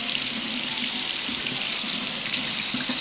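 Cold water pours steadily from a faucet into a sink, a constant close hiss and splash with no talking.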